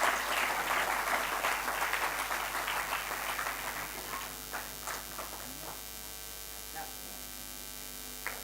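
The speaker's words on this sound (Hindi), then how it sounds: "अपनी एचओडी के लिए तालियां बजा लीजिए।" Audience applause for a head of department at a valedictory function, loud at first and then thinning into scattered claps over a steady electrical mains hum.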